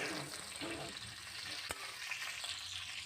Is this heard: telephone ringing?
no